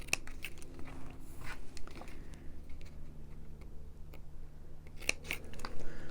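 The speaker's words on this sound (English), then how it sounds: "let's see what the points of these scissors are like." Scissors testing their points by snipping paper during junk journal crafting, heard as a series of close, crisp snips and clicks in irregular bursts over a steady background hiss.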